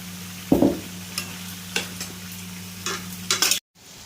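Chicken for gravy being sautéed in a pan: a spoon scrapes and stirs in irregular strokes over a steady sizzle, close and fairly loud, stopping abruptly near the end.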